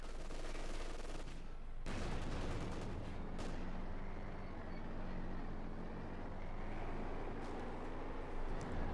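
A bazooka round slams into a Panzer IV in Company of Heroes 2 with a sharp, loud impact boom, then another crack moments later over a constant rumble of tank engines and distant battle.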